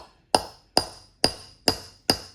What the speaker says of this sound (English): We're just going to gently tap this here with a punch.